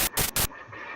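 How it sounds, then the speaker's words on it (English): FM synthesis with feedback and TL level set too high turns the waveform into harsh white noise: loud broadband hiss in three choppy bursts, then a steadier, duller noise tail. "if you set feedback and the TL level to be too high, it will basically turn the waveform to white noise like this"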